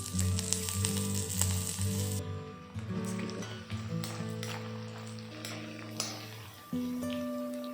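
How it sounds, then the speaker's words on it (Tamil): Dried red chillies and garlic cloves frying in hot sesame oil for a Tamil Nadu shallot chutney, a loud steady close sizzle with a few light clinks of a utensil in the pan and no talk. "எண்ணெய் சூடானதும் 10லேருந்து 15 காஞ்ச மிளகா சேர்த்துக்கோங்க உங்கள் காரத்துக்கு ஏற்ற மாதிரி. கூடவே 25 பல் பூண்டு சேர்த்துக்கோங்க."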